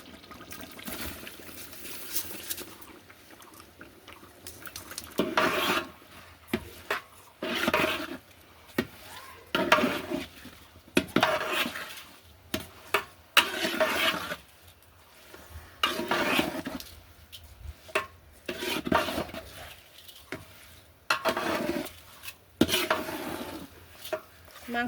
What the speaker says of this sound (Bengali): মাংসের সাথে চালগুলো একটু কষিয়ে নেব।